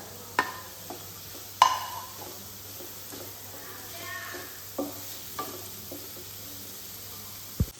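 Soft sizzling of onion and chopped green chili sautéing in a pan, with intermittent stirring clinks and scrapes against a low steady hiss.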